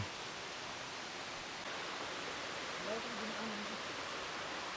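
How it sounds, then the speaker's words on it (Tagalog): A stream flows past a quiet, rocky camping area, its water making a soft, even rush that fills the background throughout; any birds stay faint under the flow. "yung naririnig lang talaga natin dito is yung agos ng tubig, tapos yung mga ibon"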